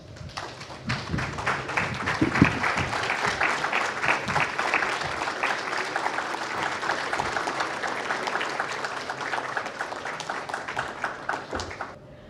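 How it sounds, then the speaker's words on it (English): An audience at a customer experience panel event gives a full, sustained round of applause for the panel, with dense clapping that builds quickly, holds for about ten seconds, then trails off. "I request all the audience to please stand up and give this full panel a very big round of applause."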